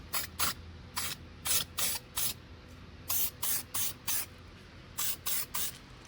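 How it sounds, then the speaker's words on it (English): Short hissing bursts of galvanising spray paint coat a Land Cruiser 80 Series bull bar, given in quick irregular pairs and triplets with brief pauses between, close and fairly loud. "So what we're going to do is just going to hit it with a bit of gal paint."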